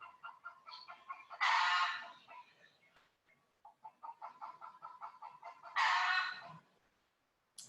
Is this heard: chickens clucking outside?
yes